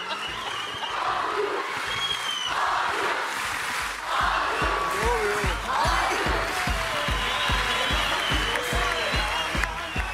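A talent show audience applauds in a hall as a magician performer heads offstage, a dense wash of clapping and crowd noise with rhythmic thumping, while a host speaks over it.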